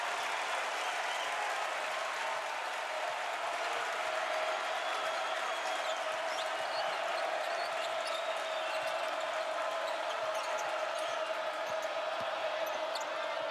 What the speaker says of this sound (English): Doesn't do anything to make this crowd's noise diminished